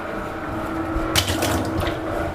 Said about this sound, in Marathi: पाणी घेऊया आपण आता